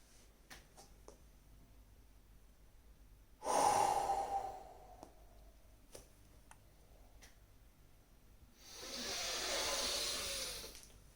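A person exhales loudly while stepping barefoot onto a board of nails, giving two long, close, breathy exhalations with faint ticking clicks in the quiet between them.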